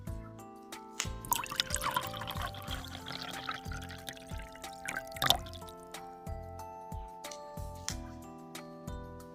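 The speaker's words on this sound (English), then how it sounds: "I bring milk for you. I will pour it in the glass." Milk poured into a glass in a paper-craft play scene, heard as a soft liquid trickle with light drips running through the clip, close and quiet, mixed with small handling sounds.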